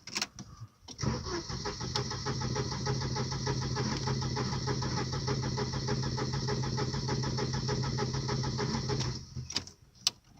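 A Volvo 940 Turbo engine cranks and fires on a cold start, settling into a steady, close, rumbling idle for several seconds before cutting off with a few clicks.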